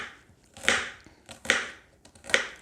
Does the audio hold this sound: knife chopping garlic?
yes